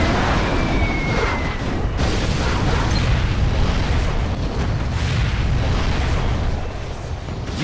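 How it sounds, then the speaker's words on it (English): In the C&C Generals Zero Hour video game, a dense rumbling roar of missile launches and explosions runs continuously and loudly, without clear breaks or speech. "Got my missile launcher right here."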